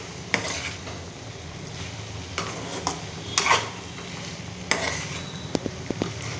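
Curry with fresh coriander stirred in a pan, a spoon scraping and clinking against the metal over a low steady sizzle, with occasional sharper taps.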